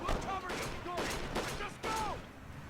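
Machine gun fire in Kane & Lynch 2 comes in short bursts with brief gaps between, sharp and close, mixed with mechanical clatter and talk over it.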